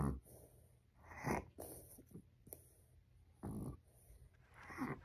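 A sleeping rescue dog snores and snorts close by, with breathy bursts about once a second or two over quiet room tone and no talking.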